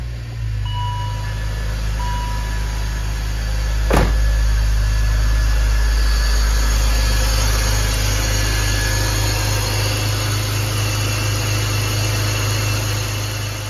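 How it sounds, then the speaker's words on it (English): A BMW M56 engine with updated valve cover and new CCV cap and diaphragm starts with a sharp crank, then settles into a steady, even idle heard up close in a garage. "just gonna do a little test start over here and see how she sounds"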